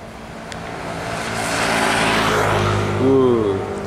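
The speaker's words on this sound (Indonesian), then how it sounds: "Ini satu unit MPM ya, dengan body jet bus." An MPM bus with a Jetbus body passes close by, its engine rumble swelling into a loud whoosh before a brief horn-like tone near the end.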